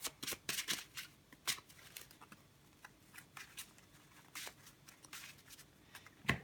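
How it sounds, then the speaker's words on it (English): Deck of cards shuffled by hand, a run of soft snappy flicks and slides up close, quiet and irregular. "I keep on dropping cards, so give it a shuffle."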